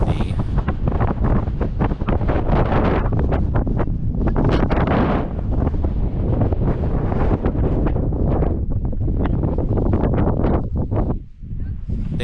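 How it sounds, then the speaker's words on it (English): Strong wind buffets the microphone outdoors on a winter trip in Georgia, a loud continuous roar with gusty rumble that stays steady throughout, easing briefly near the end. "Too windy."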